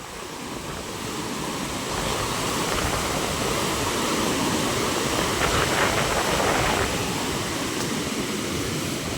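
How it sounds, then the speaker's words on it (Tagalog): Rough sea waves driven by strong southwest monsoon wind crash and roar continuously near the shore, a loud, sustained surf with no voices. "Lakas pa rin ng hangin. Kaya ganyan ang alon."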